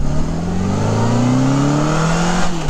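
A 1983 Honda Goldwing GL1200 motorcycle engine revs hard and accelerates, its steady loud drone rising in pitch as it climbs toward 7,000 RPM before dropping briefly at a gear change.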